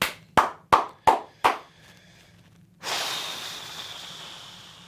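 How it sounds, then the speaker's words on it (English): One person claps hands close by, four or five crisp claps in quick succession, followed by a pause and then a steady breathy rush of noise. "just imagine I clap for like 2 more minutes because they deserve it"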